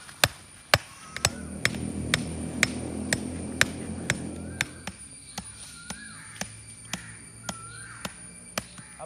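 Wooden sticks driven into the ground in a village setting, giving a long series of sharp, evenly spaced knocks over a low background rumble, close and distinct, with faint distant bird calls.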